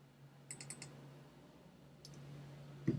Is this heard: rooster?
no